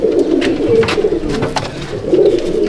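Pigeons coo in a loft at Barrackpore, a loud close chorus of overlapping throaty coos rolling on continuously, with a few faint wing and shuffle noises.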